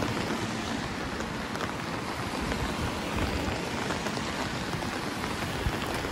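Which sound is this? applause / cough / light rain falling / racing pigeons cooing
light rain falling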